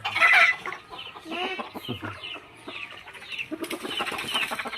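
Thai game chickens, fighting-cock breeds, cluck and chatter close by in an outdoor coop area, a run of irregular clucks and squawks with short pauses between bursts.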